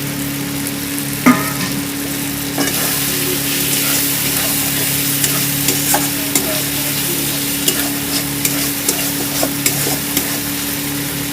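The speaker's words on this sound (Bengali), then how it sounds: "এবার আমি দিয়ে দেবো কয়েকটা চিরা কাঁচা লঙ্কা" Slit green chillies are added to frying masala for a bata fish curry, giving a steady close sizzle with occasional stirring scrapes and light clicks of a utensil against the pan throughout.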